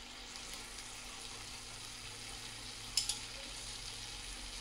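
Boiled noodles being tossed and mixed in a pan give a soft, low continuous sizzle with faint stirring, plus one brief sharp clink of a utensil near the middle.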